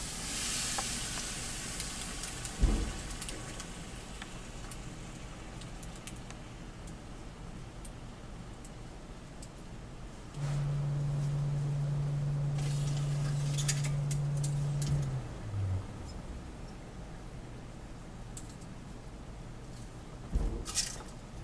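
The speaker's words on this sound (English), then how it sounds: "I'll go ahead and put that in our liquid nitrogen and see what we get" A flower dipped into boiling liquid nitrogen gives a soft, steady sizzle and hiss that lasts several seconds. Brief thumps and handling noises come before and after it, and the whole thing is quiet and close.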